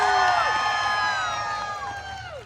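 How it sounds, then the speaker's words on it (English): A live audience cheers and whoops at a holiday comedy show, a loud burst of overlapping shouts that gradually fades over a couple of seconds. "Please cheer louder so they give me a Christmas bonus."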